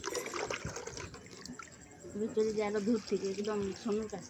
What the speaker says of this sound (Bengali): তো এই দেখো আমি জল দিচ্ছি